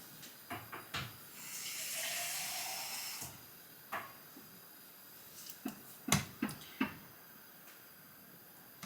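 Water poured into a container on weighing scales while measuring 200 ml for a protein drink, a steady hissing stream lasting about two seconds, bracketed by close clinks and taps of the container.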